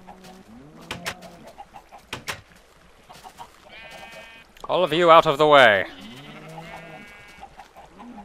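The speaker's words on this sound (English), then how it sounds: "go find a white sheep" A sheep in the Minecraft video game bleats loudly in a wavering burst, with softer animal calls and clicks around it while someone talks over part of the scene.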